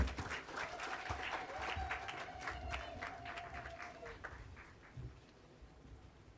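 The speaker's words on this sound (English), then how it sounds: "Please, another round of applause" An outdoor audience at a street renaming ceremony in Ausspannplatz, Namibia, claps steadily for several seconds, the dense applause thinning and fading toward the end, with faint voices beneath.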